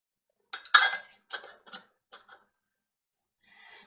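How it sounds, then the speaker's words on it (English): Metal lids and rings are set onto filled canning jars of ham and bean soup: a quick cluster of sharp metallic clinks and taps, then a pause and a brief faint scrape. "we are simply going to take a clean, wet washcloth and wipe the rims of those jars and place our lids and rings"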